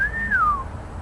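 A single clear human whistle, a rising then falling glide lasting about half a second, heard alone over faint low background hum.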